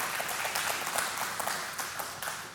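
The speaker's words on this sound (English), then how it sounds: "Yeah, clap." Brief, fairly quiet applause from an audience during a talk on Torah, a light patter of clapping hands heard alone at moderate distance.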